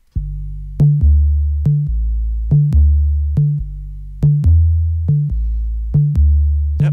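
A booming 808 bass plays alongside a trap drum beat in a rap production, its long sub-heavy notes repeating in a steady pattern beneath sharp, regular clicks and hits, loud and close with no voices.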